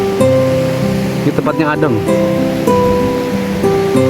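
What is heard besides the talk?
waves at Batu Hideung beach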